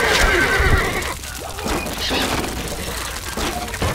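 Horses in the Stronghold Crusader video game give a short whinny at the start, followed by scattered clip-clop and clattering game sounds, moderately loud and near, with no voices.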